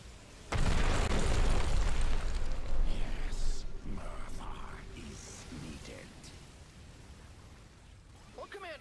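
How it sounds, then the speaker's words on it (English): A nuke detonates in StarCraft 2 with a sudden loud, deep blast that rumbles on for several seconds before fading, and a voice speaks over the tail. "someone just launched a nuke!"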